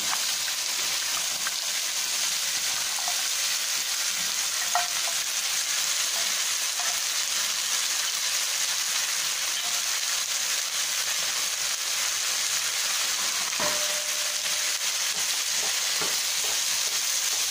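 Mini soya chunks and tomato sauté in a pan, giving a steady, even sizzle of frying throughout, with faint stirring taps now and then and no speech.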